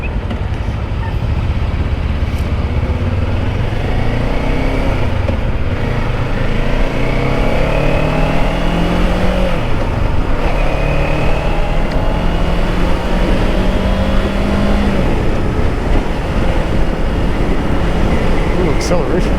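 A 2024 Kawasaki Ninja 500 KRT SE accelerates with a steady, loud engine drone and rising pitch sweeps, heavy wind rush underneath.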